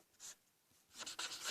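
Pen scratching quietly on small paper slips as character names are written for a Dragon Ball Xenoverse 2 tournament draw, a brief stroke then a longer run of close scribbling.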